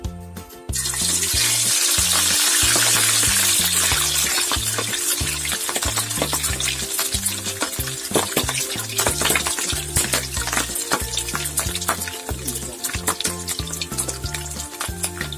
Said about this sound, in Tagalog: kunting ingat lang dahil tumatalsik ang mantika